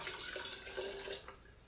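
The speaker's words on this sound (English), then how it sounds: "I have this nice new clean jar. Gonna pour this right into it." A wine and simple-syrup vermouth mixture pours into a clean glass jar with a brief, soft gurgling trickle that fades toward the end.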